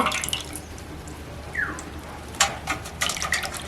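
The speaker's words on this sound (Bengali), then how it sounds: "এই দেখুন দইটা ছেঁকে নিলাম দইটা ছাঁকছি" Yogurt for kadhi being strained through a sieve, with wet dripping and trickling sounds, soft splashes and a few brief clinks close by.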